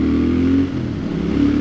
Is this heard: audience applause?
no